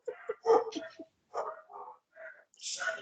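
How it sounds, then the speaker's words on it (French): Several dogs bark and yip in short bursts, with a whimpering howl near the end, fairly close and moderately loud, with no talking. "pour les chiens qui aboient"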